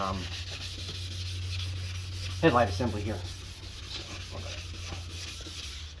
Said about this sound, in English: You want to make sure you keep this surface nice and wet as you're sanding.